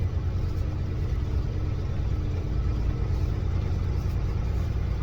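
A 650 motorcycle engine rolling through a parking lot in second gear, a steady low rumble that holds close and even throughout with no voices.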